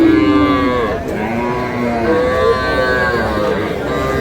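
A cow with her calf at a rural cattle market in Dinajpur moos in long, loud, drawn-out calls close by, one low bellow running into the next, with faint market noise behind.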